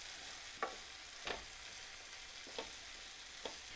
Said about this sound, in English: so the heat is up really high in that pan, so I want to get that aubergine cooked down as quickly as possible